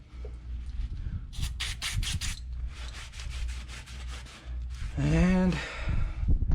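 Vigorous scrubbing on a truck wheel hub, a Ford OBS 7.3, comes as rapid rhythmic rubbing strokes, close by and persistent, with a voice talking over part of it.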